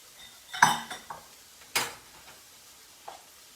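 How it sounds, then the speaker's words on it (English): Utensil scraping and clinking against a pan as spaghetti squash carbonara with raw egg is stirred, a few sharp metallic knocks and scrapes, close and separated by quiet gaps. "So what I'm just doing now is just mixing everything together."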